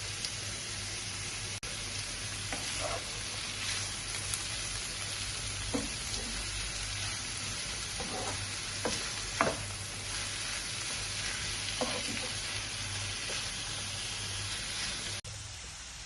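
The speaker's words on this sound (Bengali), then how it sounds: "স্বাদ মতো লবণ দিয়ে নেড়ে ছেড়ে ভেজে নিতে হবে" Bottle gourd peel stir-fries in oil with turmeric, cumin and salt, giving a low, steady sizzling hiss broken by occasional soft scrapes and taps of the spatula.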